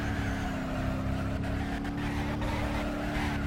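A car driving in the video game BeamNG.Drive gives a steady, loud engine drone that runs throughout with no break.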